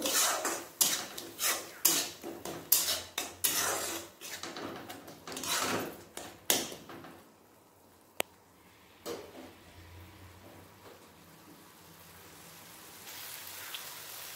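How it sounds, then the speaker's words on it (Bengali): Mustard, poppy seed and green chilli paste is stir-fried in a pan, with a run of rapid close scraping and clattering strokes giving way to a soft steady sizzle. "মশলাটা ভালোভাবে কষিয়ে নেব।"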